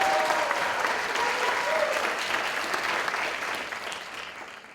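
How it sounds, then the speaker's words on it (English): Startup competition audience applauding for Flower Child Remedies at the Duke Startup Challenge finale, a loud, dense burst of clapping that holds steady, then gradually fades toward the end. "Okay, and a big round of applause for Flower Child Remedies."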